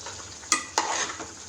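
Chicken sizzles steadily as it fries dry in a hot pan for butter chicken sukka, while a utensil scrapes and stirs it twice with sharp clattering strokes.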